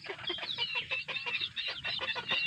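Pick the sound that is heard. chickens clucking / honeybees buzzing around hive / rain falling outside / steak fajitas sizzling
chickens clucking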